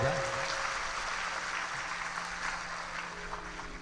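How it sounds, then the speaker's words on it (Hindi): Audience applause fills a Hindu Shiv Mahapuran katha gathering, a steady broadband clapping from a large crowd that holds for several seconds and eases slightly toward the end. "जोरदार ताली बजाओ"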